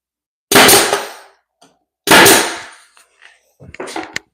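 A nail gun fires fasteners into trim during a renovation, two loud sharp bangs about one and a half seconds apart, each ringing out briefly, followed by a cluster of quicker clacks and knocks.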